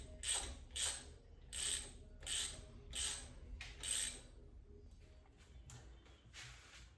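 A ratchet tightens header bolts on a 1976 Ford Maverick in a run of about seven rhythmic bursts of close, crisp clicking, fainter toward the end.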